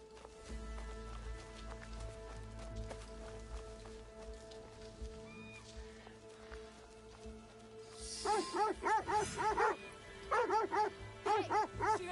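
Dog barking in a feudal Japan scene of the video game Assassin's Creed Shadows, bursts of repeated loud barks arriving in two clusters near the end over ambient game background sounds and music.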